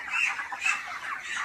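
Young broiler chickens on a farm cluck and chirp together in a continuous, moderately loud flock chatter with overlapping calls.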